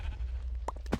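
A sheep in the Minecraft Hypixel Sheep Wars game gives two short, quiet bleats close together near the end of a brief moment.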